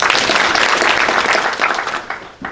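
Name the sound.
audience applause for a professor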